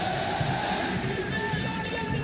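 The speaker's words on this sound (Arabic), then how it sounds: "اسمع إلى صوت الجمهور الأهلاوي" Football fans of Shabab Al Ahli roar in a packed Rashid Stadium in Dubai during a league match, a dense, continuous crowd noise that stays steady and loud throughout, with no clear single voice rising above it.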